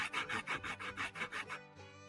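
Shinto rasp with an aluminum handle filing a plastic guitar body, a steady run of about eight rhythmic rasping strokes, close and loud, trailing off at the end.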